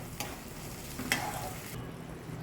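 Tomato gravy stirred in a frying pan, with a couple of quick scraping strokes over a soft background, faint and close.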